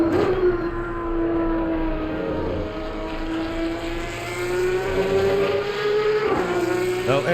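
Porsche Supercup race car engine at Laguna Seca in Assetto Corsa Competizione, a loud sustained whining drone whose pitch slowly rises and then drops sharply near the end as the car shifts or brakes.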